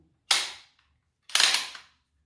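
Two sharp, close mechanical clicks about a second apart, each with a short rattling tail, as the stock on a Midwest Industries MI 223 compact rifle is shifted between its three positions. No one speaks.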